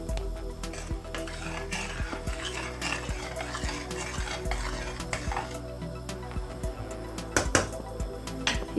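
Onion and tomato fry gently in a pan while a spatula stirs and scrapes, giving repeated light clinks and scrapes against the metal over a soft, low sizzle, fairly close.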